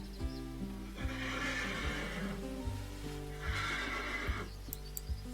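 A horse in the virtual world game Second Life whinnies twice with long drawn-out neighs, alongside hoof clip-clops and a steady low background tone, and no one speaks.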